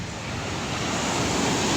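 Sea waves at high tide wash steadily onto Dolomite Beach, a continuous broadband roar with some wind noise, no voices.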